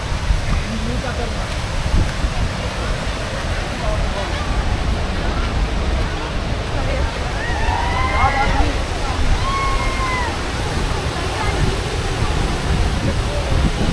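Kunthala waterfall roars as a broad, continuous wash of rushing water, with brief whistle-like tones and people talking faintly over it.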